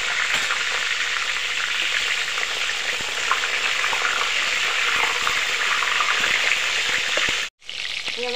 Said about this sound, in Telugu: నూనె కాలింది, ఇక వంకాయలు కలుపుకుందామా.